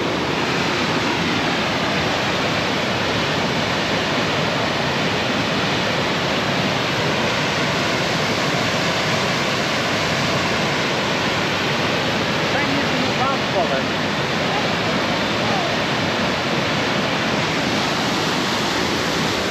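Cascade seen from the Pont d'Espagne near Cauterets, a steady, dense roar of falling water heard close and loud throughout, unbroken and even.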